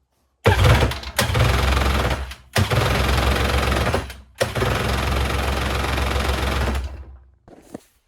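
An abandoned jet ski engine being started: three loud cranking and firing bursts separated by brief pauses, then the engine catches and runs roughly before cutting out, followed by faint rattling.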